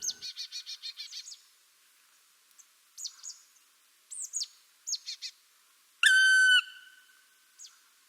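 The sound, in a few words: owl calling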